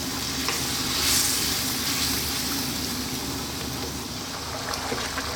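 Tomatoes sizzle in a pan on high heat for a chicken curry, a steady crackling hiss with faint stirring, close and even throughout with no talk.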